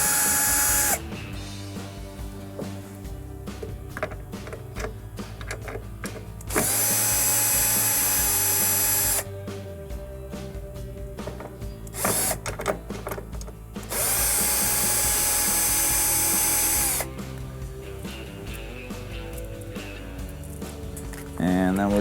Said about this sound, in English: We're gonna take out 4 Phillips screws.